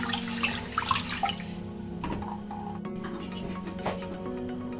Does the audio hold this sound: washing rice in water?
yes